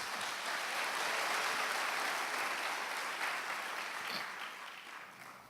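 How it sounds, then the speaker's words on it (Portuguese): A church congregation applauds together in a sustained wash of clapping that swells, holds steady, then slowly fades toward the end, with no talk over it. "Aplauda o Senhor Jesus."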